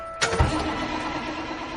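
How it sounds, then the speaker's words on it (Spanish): A bus engine is cranked and catches with a sudden whirring burst that settles into a steady, close rumble. It runs on alone with no talking. "la monja estaba intentando calladamente encender el motor"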